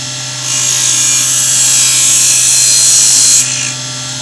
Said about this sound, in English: we're going to take away most of the waste with a spade bit